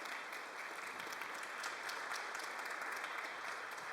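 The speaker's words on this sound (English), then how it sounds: "can we please have a big round of applause for Mariana?" An audience at a literary translation slam claps for the author, a full, steady round of applause from a crowd that stays level from start to finish, with no talking over it.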